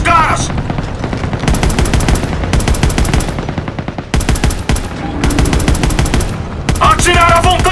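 Rapid bursts of automatic small arms gunfire in Call of Duty: WWII rattle in close, loud volleys with brief gaps between them.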